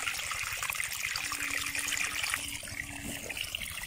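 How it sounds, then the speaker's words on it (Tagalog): Water runs steadily while sweet potato and chili plants are watered on a farm. The flow is continuous, close and moderately loud, with a faint low hum beneath it and no talking. "Yan, magpatubig muna tayo."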